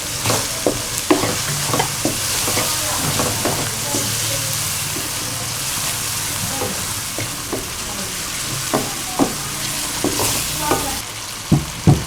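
Finely chopped tomatoes frying in a pan for tinda sabzi, with a steady close sizzle and repeated scraping clicks of a spoon stirring throughout.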